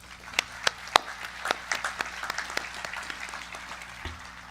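Applause at a high school graduation ceremony for the class of 2020, a crowd clapping steadily for several seconds with scattered sharper claps standing out, no voices over it.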